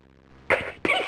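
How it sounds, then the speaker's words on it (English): Peter Rabbit sneezing in the 1992 CDTV game The Tale of Peter Rabbit: two sharp, close bursts in quick succession after a brief quiet lead-in. "Presently, Peter sneezed."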